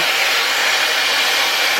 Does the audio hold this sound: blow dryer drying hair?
yes